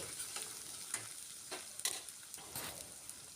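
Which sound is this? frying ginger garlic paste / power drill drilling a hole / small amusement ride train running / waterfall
frying ginger garlic paste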